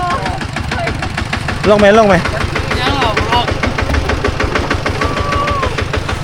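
A farm tractor engine runs nearby with a steady, rapid knocking chug throughout, while people talk over it at close range.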